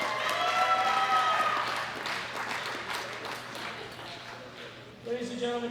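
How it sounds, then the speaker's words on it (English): An audience at the World Classic Powerlifting Championships applauds the gold medal winner of the men's 120+ kg class, a moderate wash of clapping that fades, while an announcer speaks over it. "Big round of applause for the gold medal winner, Gabriel."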